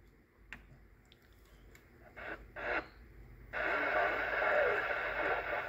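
Uniden BCD996XT scanner radio playing received audio through a small speaker on a poor antenna, short static bursts and clicks building into a steady hiss of noisy reception.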